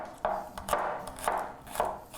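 About five garlic cloves being finely chopped with a knife on a board, four crisp evenly spaced chops up close with no talking.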